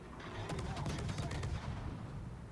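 Distant naval gunfire in World of Warships, a cluster of quick muffled cannon thumps over a steady rumbling battle ambience, lasting a couple of seconds.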